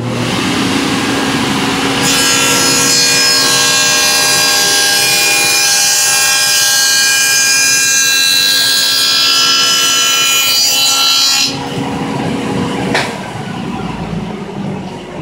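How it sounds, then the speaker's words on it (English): An 8-inch stacked dado set on a saw plows a rabbet through Garnica plywood: a loud, sustained whining roar of blade through wood lasting about nine seconds, with the motor running on more quietly before and after. "I have an 8-inch stacked dado set in here. I'm going to take a plow or a rabbet in here and"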